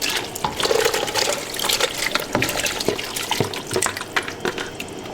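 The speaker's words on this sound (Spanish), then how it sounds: "Aquí le agregué unos 4 litros de agua." Water pours into a large cooking pot for menudo, splashing and gurgling irregularly at close range with uneven bursts and trickles.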